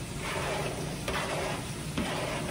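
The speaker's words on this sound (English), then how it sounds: "so since the ground beef was about halfway, that's the perfect time to put in our onions" Onions hit ground beef cooking in a pan, setting off a steady hiss of sizzling with scraping stir strokes that rise in brief bursts, close and fairly quiet.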